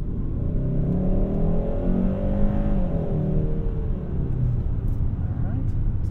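A 2024 Hyundai Sonata N Line's engine, with active sound design on, drones and swells as it accelerates, a low throaty rumble rising in pitch, close and steady throughout.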